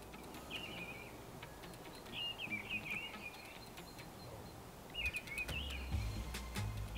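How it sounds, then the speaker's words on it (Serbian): Small birds chirp in short warbling bursts around a holiday house, fairly faint and a little distant over a steady outdoor hiss, with a few scattered clicks. "možda ćete moći da čujete cvrk ptica u okolini"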